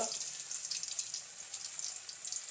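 Stuffed ash gourd slices, filled with a ground mustard and green chilli paste, hiss steadily in hot frying oil as a continuous bright sizzle, close and even throughout with no talking.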